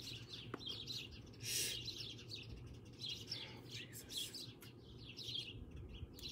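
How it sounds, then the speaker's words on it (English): Small birds chirp and tweet outdoors in a continuous chorus of quick, high calls at moderate distance, over a steady low background rumble on a chilly day. "Oh, you can hear the birds."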